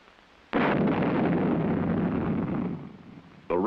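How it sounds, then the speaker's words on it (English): Little John artillery rocket firing from its launcher as the propellant ignites: a sudden loud blast at once turns into a sustained roaring rush that fades slightly toward the end. "When the rocket reaches a rotational velocity of 3 revolutions per second, an igniter sets off the propellant."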